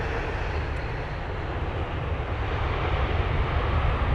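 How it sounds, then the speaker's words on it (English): Airliner landing at London Heathrow with reverse thrust applied, a broad sustained roar that grows slightly louder over a few seconds at moderate distance. "There's a rev thrust."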